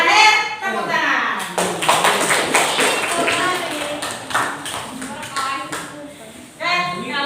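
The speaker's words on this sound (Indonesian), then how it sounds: "terakhir tepuk tangan." A classroom of children claps together, an evenly spaced series of crisp, loud hand claps, with an adult voice speaking before and after the claps.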